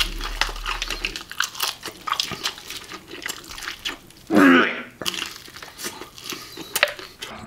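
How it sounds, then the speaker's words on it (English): Someone crunches and chews KFC crispy chicken from a Big Box meal up close, with a string of small bites and mouth sounds and one louder, sharper crunch partway through. "you can hear the crunch and the chewing of his food"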